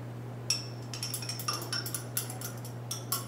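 Light glassy clinks and ticks tap out an irregular rhythm as a chemical solution is stirred in glassware during a complex-ion color demonstration, faint and close over a low steady hum.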